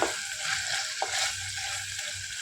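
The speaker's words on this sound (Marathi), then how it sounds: "हे बघा मस्त भाजायला लागलंय आपलं." Seeds and spices dry-roasting in a pan for a Maharashtrian vegetable dish, giving a steady soft sizzling crackle with faint stirring scrapes, close and continuous, no voices.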